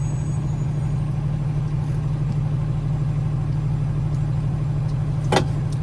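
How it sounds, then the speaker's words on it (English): Steady traffic on Pacific Coast Highway in Santa Monica, a continuous wash of car engines and tire noise rolling past at moderate distance, loud and unbroken. "You can see now how much more traffic there is on Pacific Coast Highway."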